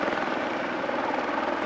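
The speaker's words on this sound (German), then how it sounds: "Hinter mir ist gerade ein Hubschrauber unterwegs und macht ziemlich viel Krach." Helicopter flying low overhead while trimming treetops near power lines in a Swedish winter setting, a loud steady rotor chop and engine drone throughout, with no talk.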